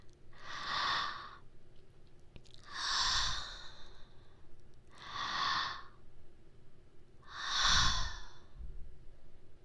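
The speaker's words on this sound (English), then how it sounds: "Breathe with me." Slow, deep breaths near the microphone in an intimate binaural setting: four long breathy inhales and exhales spaced a few seconds apart, soft and airy with quiet gaps between, no words spoken.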